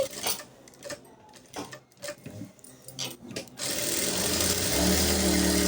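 A sewing machine stitches a katori blouse, starting with scattered clicks and short handling bursts before settling into a steady, close, continuous whirring run.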